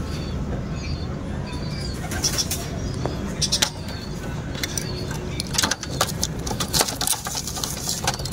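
Birds being released coo softly amid bursts of flapping wings, with sharp fluttering clatters scattered across the scene and a low background hum.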